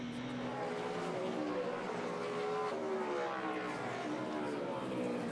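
Engines of NASCAR Camping World trucks, including a Ford, run final practice at Martinsville Speedway in 2009, a steady dense roar with rising and falling harmonics as trucks pass, under continuous commentary.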